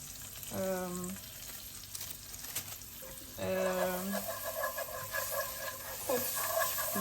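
Spices lightly frying in hot oil in a pan for savory rice, a close steady sizzle with a spoon stirring and scraping, while a person talks briefly over it at intervals.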